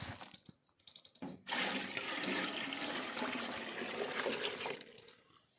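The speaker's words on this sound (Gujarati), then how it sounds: "આ તેલનો ડબ્બો હશે પંદર લીટરનો એમાં આપણે પાણી નાખશું દસ લીટર" Ten litres of water pour into a 15-litre metal oil tin after a few short clanks and knocks, then a loud, steady gushing rush that fills most of the clip before tailing off; no speech.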